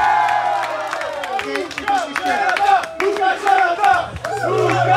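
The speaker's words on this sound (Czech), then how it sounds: "Prosím, potlesk." A live concert crowd at a rock gig claps and cheers for the band's new guitarist. Scattered, uneven claps and shouts rise and fall under a voice from the stage.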